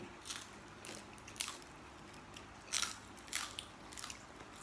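Crunchy deep-fried frogs are bitten and chewed up close, giving several sharp, crisp crunches at irregular intervals against a quiet background, with no talking.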